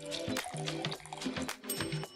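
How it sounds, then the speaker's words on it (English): Vinegar pours from a container into a plastic soda bottle, giving a gurgling liquid sound that pulses in rapid glugs about every half second, close and moderately loud. "I'll pour the vinegar into the soda bottle."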